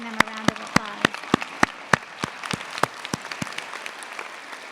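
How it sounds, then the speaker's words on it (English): Sparse, sharp handclaps from a graduation audience applauding family and friends, crisp individual claps scattered irregularly rather than a dense roar, fairly close, with no talking over them. "So please join me in giving them a round of applause."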